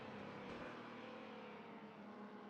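1950s Formula 2 race cars in a racing video game roar past in a steady, loud engine drone with a rising and falling pitch as they sweep by close to the listener.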